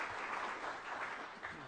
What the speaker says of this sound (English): Let's have a round of applause for Kathy.